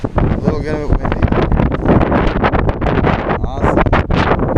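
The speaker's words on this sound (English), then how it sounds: "A little bit windy." Strong gusts buffet the microphone with roaring low rumble, while a person talks briefly amid the blustery noise.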